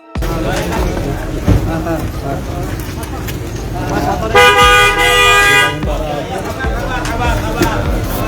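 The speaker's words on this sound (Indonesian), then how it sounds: "pemobil itu memberikan klakson keras" A loud, sustained car horn blares for over a second amid a noisy crowd of voices and traffic outdoors during a funeral procession.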